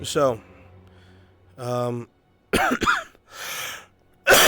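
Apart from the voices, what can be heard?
coughing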